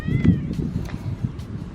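A pet cat meows close by, a few short, low, throaty calls in quick succession with a little handling noise around them.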